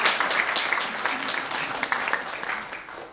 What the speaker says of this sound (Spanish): Muy bien, aplauso para ustedes